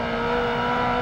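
Yellow supercar engine in Project Gotham Racing 2, a brief steady, close engine drone at constant pitch, heard alone.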